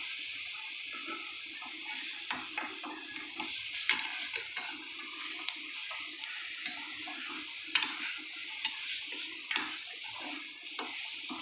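A quarter kilo of mutton sizzles and fries in gravy while a spoon stirs it, with a steady hiss broken by repeated scraping clicks against the pan.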